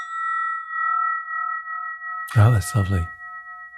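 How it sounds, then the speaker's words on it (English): A brass spinning bell rings out with steady sustained tones that hum under the opening and keep sounding beneath a brief spoken remark near the end. "we call this a spinning bell."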